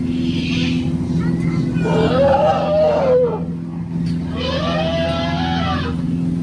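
Deep, groaning African elephant calls rise and fall in two long bouts, with a low rumble and steady background hum throughout.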